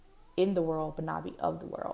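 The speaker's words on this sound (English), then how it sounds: "if you hear a cat in the background" A cat meows a few times in the background, drawn-out and tonal, overlapping a woman's speech.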